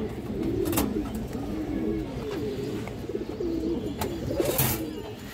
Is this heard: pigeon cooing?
yes